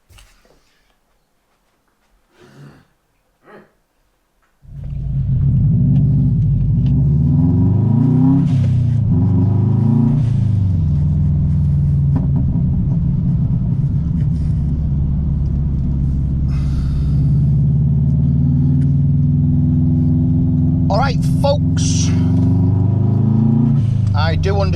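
A Subaru car is quiet at first, with a few faint knocks. About five seconds in, its engine starts and holds a loud, steady rumble for the rest of the time, heard from inside the car.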